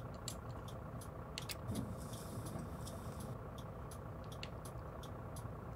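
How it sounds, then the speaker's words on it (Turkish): Truck engine idling and rumbling in the Fernbus Coach Simulator driving game, a steady low drone with repeated sharp clicking ticks on top, no talking. "Yine bir kamyon var. Sesi inanılmaz geliyor."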